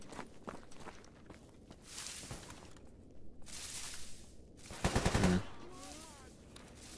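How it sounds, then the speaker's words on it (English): In the survival shooter S.T.A.L.K.E.R. GAMMA, scattered bursts of gunfire mix with footsteps crunching across the ground, and a louder cluster of rapid shots comes near the end. "Shoot him in the leg."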